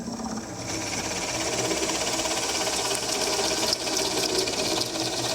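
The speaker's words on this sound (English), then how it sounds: "Look how cleanly that cuts. You do want to clear a bit fairly frequently, especially Forstner bits." A drill runs a Forstner bit into wood at an angle for a Windsor stool, a steady close whirring drone that holds for several seconds with slight rises as the bit bites.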